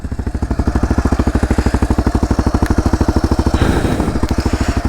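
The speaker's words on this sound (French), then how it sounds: "On démarre la moto et puis on part." Suzuki 650 DR SE motorcycle engine running close by with a loud, steady rhythmic thump that shifts slightly in tone near the end as the bike pulls away.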